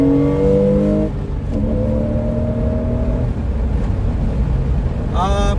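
A 2003 Porsche Boxster S engine pulls hard under acceleration, its steady close-up drone stepping down briefly after a gear change and then climbing again in pitch near the end.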